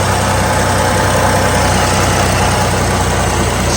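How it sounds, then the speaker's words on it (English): A 2005 GMC Envoy SLT six-cylinder engine idles steadily, a loud, close, continuous low rumble with no breaks or voices. "So as you can hear, it's a really nice sounding engine."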